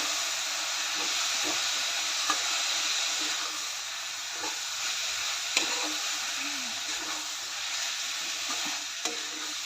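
Besan (gram flour) is stirred into spinach in a pan for a garlicky palak dish, a soft, steady sizzle and hiss with occasional faint scraping clicks from the spoon, all quiet and close.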